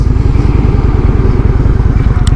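A Honda Shadow 750 ACE motorcycle idles close by, its engine producing a loud, fast, even thumping pulse that continues without a break.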